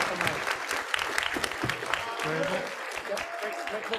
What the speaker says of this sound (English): So you all can keep clapping while Colin keeps his way up here.